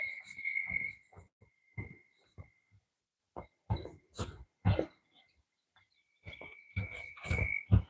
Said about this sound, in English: Sounds like we got some frogs down there in the creek today.